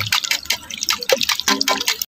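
Cold water poured into curd while cooking a dahi bhindi dish, heard as close, splashy drips and trickles in uneven bursts, loud and alone with no talking.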